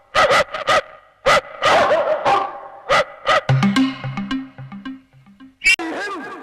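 Dog barking in a Telugu comedy film scene: a burst of loud, close barks and yips in an uneven rhythm, then softer whimpering yelps over a brief melodic tone, ending with a sharp final yelp.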